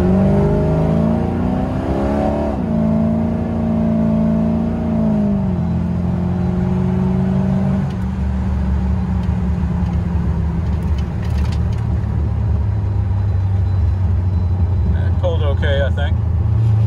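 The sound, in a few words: LT1-engined C3 Corvette accelerating in low gear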